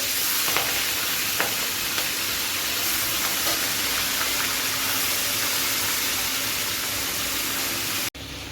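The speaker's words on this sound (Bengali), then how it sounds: "আগের থেকে আমি কড়াই গরম করে রেখেছি, এখন মাছগুলো আমি ভেজে নিব" Fish frying in hot oil in a wok makes a loud, continuous hissing sizzle that holds steady from start to finish, with no talk over it.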